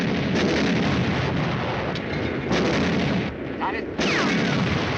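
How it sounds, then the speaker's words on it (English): Artillery fire and shell explosions in a war film about tanks, heavy booming blasts and rumbling impacts following one another, with a brief spoken line in the middle of the bombardment. "The artillery zeroed in on us."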